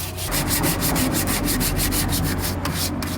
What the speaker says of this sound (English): I'm gonna make sure everywhere that it's chunky that I'm sanding it off